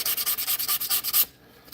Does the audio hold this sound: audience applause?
no